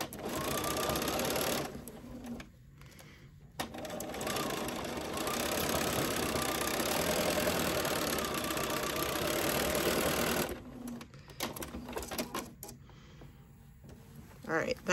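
A sewing machine runs in long steady bursts while stitching a half-inch seam on a ruffle box zip pouch. The whirring stops briefly twice for short backstitches, and there is no talk over it.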